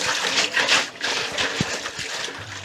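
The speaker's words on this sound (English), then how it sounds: "I'll tip that water out just in the garden." Rinse water is tipped out of a Cornelius keg onto a garden, a steady splashing gush and trickle that runs close and fairly loud for a few seconds.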